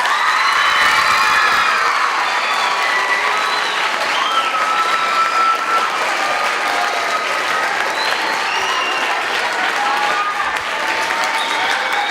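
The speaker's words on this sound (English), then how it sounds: "I think that we should probably give them another round of applause." Seventh-grade students at a Robert Frost poetry bee get loud applause from an audience, thick continuous clapping mixed with cheering, whoops and children's shouts throughout.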